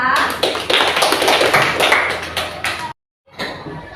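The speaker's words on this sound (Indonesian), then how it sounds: "beri tepuk tangan untuk Mbak Naila" Classroom group clapping for a student presenter, close and lively with many overlapping hand claps for about three seconds, a brief silent gap, then clapping resumes.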